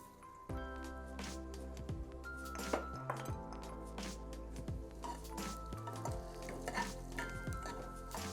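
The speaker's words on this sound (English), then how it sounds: "I just want to nicely saute the fennel seeds in the oil along with some onions" Fennel seeds sauté in hot oil for a cream of cauliflower soup, giving a steady sizzle with occasional stirring clinks of a utensil against the pan, under continuous tonal background music.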